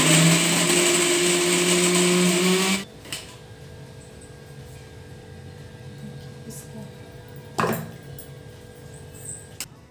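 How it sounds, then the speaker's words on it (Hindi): A kitchen mixer grinder whirs loudly as it grinds soybeans for a weight-loss breakfast, running for about three seconds before cutting off abruptly, followed by quiet room tone and a few small clicks. "तो इसे हम मिक्सर में पीस लेते हैं सबसे पहले।"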